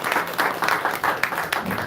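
A congregation applauds at a church revival gathering, clapping loud and close in steady, dense bursts that swell and dip without voices.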